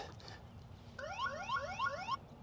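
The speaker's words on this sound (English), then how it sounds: "Not only does a little alarm go off, but it sends you a notification on your phone." An Engwe EP-2 3.0 e-bike's anti-theft alarm sets off as the bike is moved: a loud burst of rapid, repeating rising electronic chirps lasting about a second, clear over a quiet background.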